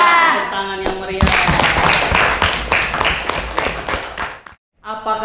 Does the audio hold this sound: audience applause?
yes